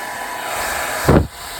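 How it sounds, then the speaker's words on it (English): A handheld blow dryer aimed at a face gives a steady, close, broadband whoosh, with a brief louder surge of airflow near the end. "Should we try the blow dryer test?"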